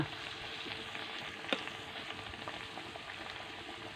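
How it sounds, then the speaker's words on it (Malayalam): A snack made from tender jackfruit fries in hot oil with a steady, close sizzle. A single brief clink sounds partway through. "പൊരിയട്ടെ ഒന്ന് നമുക്ക് മറിച്ചിട്ട് കൊടുക്കാം"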